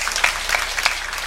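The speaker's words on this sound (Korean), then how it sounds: "하나님께 영광의 박수를 드립니다" A church congregation claps together during a Sunday worship service, a brief dense burst of applause, fairly loud and close, with no voices over it.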